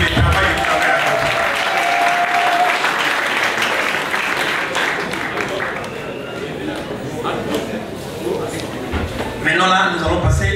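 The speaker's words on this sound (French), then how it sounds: "Avec Madame Odette, vous pouvez vous lever et recevoir les applaudissements de la salle" An audience in a hall at an evening dance event applauds for several seconds, dense close clapping that tapers slightly, with voices rising briefly near the end.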